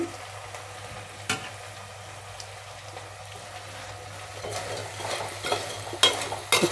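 Fried cauliflower being stir-fried in a pan for gobi manchurian, a soft sizzle with sparse utensil clicks at first, then livelier stirring with repeated scraping knocks in the final seconds.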